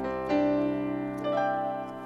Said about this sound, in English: inside the MX49 is that same great 9-foot concert grand CF3S piano